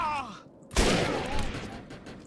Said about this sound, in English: I'm being shot at, little bastards.